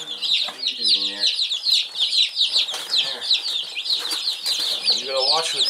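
Many baby chicks peep in a farm coop in spring, a dense, continuous chorus of high chirps close by, with brief soft clucks and rustling beneath.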